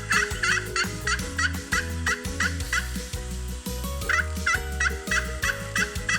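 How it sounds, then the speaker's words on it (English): A male farm turkey gobbles in loud, rapid rattling bursts, repeated several times with a brief gap in the middle, close up and with no other sounds. "Next up, we have the turkey."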